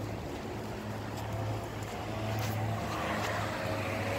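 Street traffic of scooters and cars passes at a distance, a quiet, steady wash of engine drone and tyre noise with faint rises as vehicles go by, and no speech over it.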